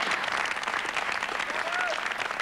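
A television studio audience applauds to welcome a guest on a 2003 footy show, a dense steady clapping that continues throughout, with a host's voice faintly over it.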